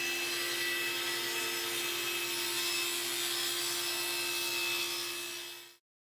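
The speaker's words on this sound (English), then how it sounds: "So right now, I'm cutting that down to the width that I need," A saw cuts walnut to width in a woodshop: one continuous, steady power-saw roar with an even whine that holds for about five seconds and then stops abruptly, close and with no talking.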